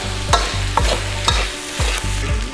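Food is stirred and fried in a pan during a Thai cooking session, with four sharp scraping strokes at a roughly even pace over a soft, continuous sizzle, close and fairly loud, no talking.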